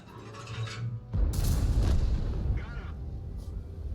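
Tank main gun firing in the video game World of Tanks, T95 tank destroyer battle: a single heavy deep boom that rolls into a long rumbling decay, following a brief quieter stretch with a faint voice.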